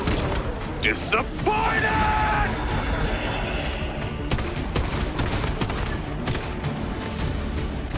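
Rapid shotgun and other gunfire in the Once Human video game during a solo fight against Mr Freeze, loud booming bursts packed together over a busy battle din while a player shouts.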